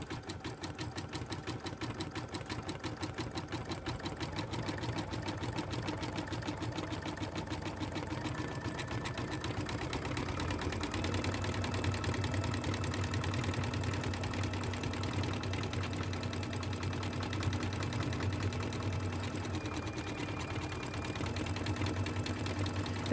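An embroidery machine stitching a reticule design, a fast continuous mechanical needle chatter with a steady hum, running evenly close by without pause.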